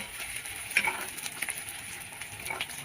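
Koi fish and potatoes frying in hot oil in a pan, a steady close sizzle with scattered pops and crackles through the whole stretch.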